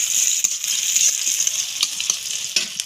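Chopped onions fry in a pan of oil with a steady, close bright sizzle, and faint scraping clicks of stirring break through now and then.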